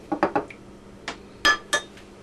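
A spoon stirs a teaspoon of sugar into kolache dough mixture in a bowl, giving a close, quick run of light clinks and taps in irregular bursts with short pauses between, no voices.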